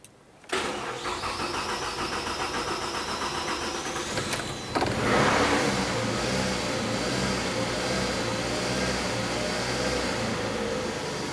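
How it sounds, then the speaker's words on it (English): A 2009-2010 Pontiac Vibe car engine cranks and fires after a brief quiet moment, then settles into a steady, close idle that continues evenly for several seconds with no talk. "Start up the car, let it run for approximately 30 seconds and turn it off."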